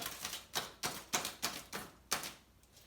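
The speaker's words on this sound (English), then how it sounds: "we're just gonna dot, dot, dot all the way through both pieces of paper" A toothpick pokes holes through two stacked sheets of paper in a series of about seven sharp, evenly spaced taps, close and crisp, with no talking.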